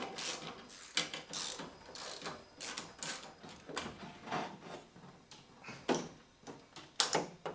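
A ratchet works radiator bolts loose on an Oreion Reeper off-road vehicle, with quick, close, repeated clicking strokes coming in uneven bursts and short pauses, heard alone without talk.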